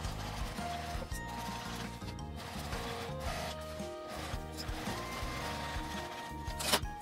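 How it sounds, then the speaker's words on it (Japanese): A sewing machine topstitches the upper edge of a thick laminated vinyl bag with a steady, rhythmic mechanical chatter of needle strokes, close and alone, ending with a brief sharp tick. "上端にも端ミシンをかけます。"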